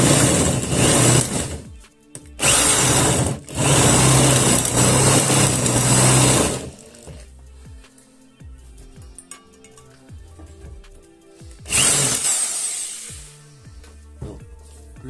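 A power drill bores a hole in stainless steel lubricated with oil, whining loudly in three long bursts separated by quieter stretches filled with faint clinks and handling noise.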